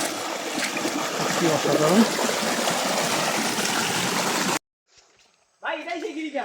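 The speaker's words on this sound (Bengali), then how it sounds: "আর এখানে পানির শব্দটা দেখেন" Rushing stream water in the Lasuban gorge fills most of the clip as a steady broadband wash, with a voice speaking briefly near the end after the water sound cuts off.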